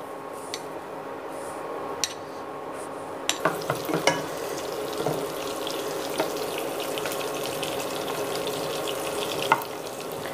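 Chopped onion and garlic frying in soybean oil in a pan, a steady sizzle running throughout with scattered clicks and scrapes of stirring, close and moderately loud, no speech.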